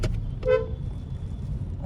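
A petrol 2026 Kia Seltos engine rumbles low and steady from inside the car, with a brief horn toot near the start.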